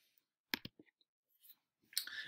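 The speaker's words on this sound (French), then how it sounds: "Alors, je clique sur ultimate frisbee." A computer mouse clicks while selecting an item on screen, giving a couple of sharp close clicks near the start, a few fainter ticks, then another click at the end, with no speech.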